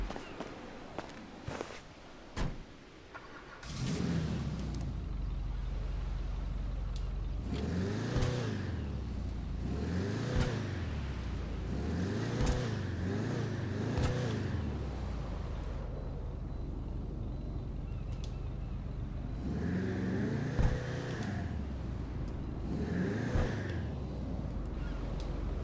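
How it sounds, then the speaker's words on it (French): Willard Eudora muscle car in GTA Online, its engine revving repeatedly in rising and falling surges over a steady low rumble, loud and close with no speech. "allez, on va tester ce véhicule maintenant"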